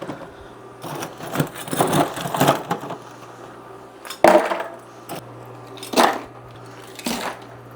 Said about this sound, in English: we're going to see if we have enough ice in here to fill this cooler up.